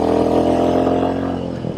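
A Royal Enfield Meteor 350 motorcycle accelerates on a road, its single-cylinder engine giving a loud, close, steady rising drone with a throbbing low exhaust note that eases slightly near the end.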